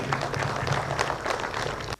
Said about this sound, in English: give the award winners a round of applause